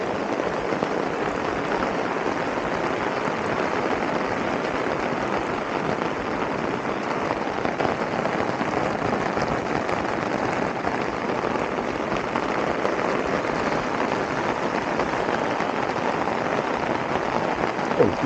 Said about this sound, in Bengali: বৃষ্টিটা এতক্ষণ অতটা ছিল না, জাস্ট এই বাতাসিয়া লুপে আসার পরেই আরও ঝমঝমিয়ে নামলো